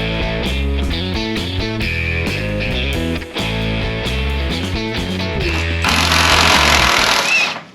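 A power tool rattles steadily for several seconds while taking old body mount bolts off a Jeep LJ, running loud and close with a short stutter, then shifting to a harsher whine near the end before stopping.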